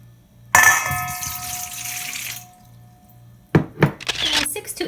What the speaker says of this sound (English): Cover it well with water because your lentils are going to be soaking in the liquid.